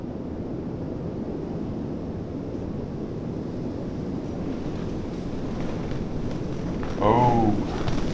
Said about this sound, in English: I'm waiting for one good gust to see how this thing behaves in it.